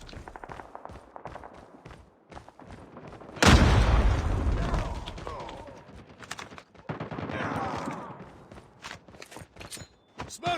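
A grenade explodes with a sudden loud boom in a shooter video game, following a run of rapid gunshot bursts and trailing into more scattered gunfire and rumble, with voices calling out between shots.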